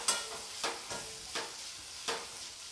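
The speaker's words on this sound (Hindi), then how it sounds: "प्याज को मैंने हल्का गोल्डन ब्राउन होने तक भून लिया है।" Onions fried to light golden brown in a pan, with a soft, steady sizzle broken by about five distinct scraping stir strokes at roughly even intervals, fairly quiet and with no talking.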